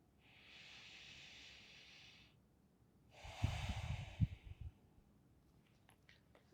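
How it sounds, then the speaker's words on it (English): During a yoga flow, a person draws two long deep breaths, each a soft airy inhale followed by a fuller, louder exhale with a breathy rush, close and unhurried in a quiet room. "Keep breathing in nice and deep through your belly"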